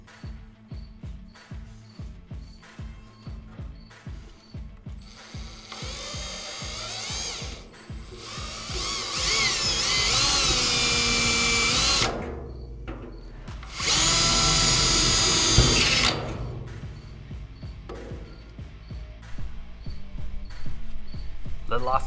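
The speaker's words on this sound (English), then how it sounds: "So I'm going to attempt to drill this on an angle." A power drill boring an angled pilot hole near a truck hitch, opening with rapid stuttering bursts and then long steady high whines in two main runs, loud and close, with brief talk nearby.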